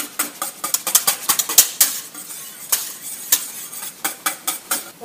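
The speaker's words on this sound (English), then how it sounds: "Whisk it in there really briskly until it's nice and foamy." Brisk whisking of milk with yogurt culture in a bowl, rapid irregular metallic clicks and scrapes of the whisk against the container, close and clear with no voices.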